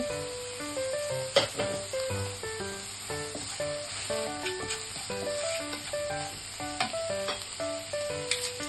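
Curry leaves sizzle in hot oil while a chickpea curry is cooked, a steady crackling hiss running underneath louder background music with a few sharper spits.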